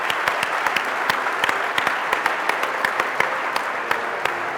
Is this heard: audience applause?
yes